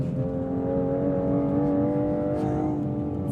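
A 2025 Aston Martin Vanquish V12 with titanium exhaust hums steadily at a smooth, refined cruise, a continuous mid-level engine drone heard from inside the car, with no sharp revs.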